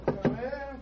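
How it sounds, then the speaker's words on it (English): Two sharp knocks on a study door in an old-time radio drama, a close wooden tapping followed by a faint murmur of voices. "Let's tap on his study door."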